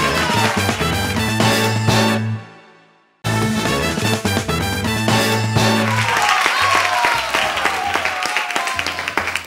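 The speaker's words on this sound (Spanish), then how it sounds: "Un aplauso para ellos." Applause from a TV variety show studio audience under loud music. It cuts out briefly, then the music returns with a bright, busy clatter before a cut to a break.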